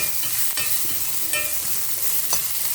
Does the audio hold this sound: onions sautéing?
yes